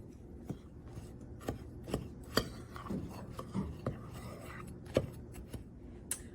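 Dry baking ingredients (flour with baking soda, baking powder and salt) are mixed together in a bowl. The sound is quiet and close: a run of irregular light taps and soft scraping strokes, spaced roughly every half second.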